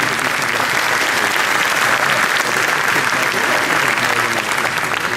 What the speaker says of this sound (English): Can we have a round of applause for the Asia Global High School?